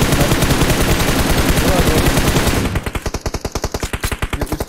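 Loud automatic gunfire in PUBG Mobile: dense continuous bursts for about three seconds, then a steady rapid rhythm of distinct individual shots to the end.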